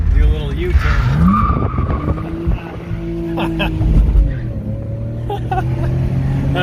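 A car swings through a fast U-turn, tires squealing in long rising and falling whines over a loud engine roar, close up, with a voice talking briefly over it.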